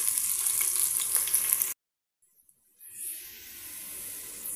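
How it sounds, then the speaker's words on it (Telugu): Onions fry in a hot pan with a loud, steady sizzle and hiss that cuts out abruptly, falls silent for about a second, then returns as a softer continuous frying sizzle. "అది వేసుకొని ఒక 2-3 నిమిషాలు ఇలా ఫ్రై అవ్వనివ్వండి"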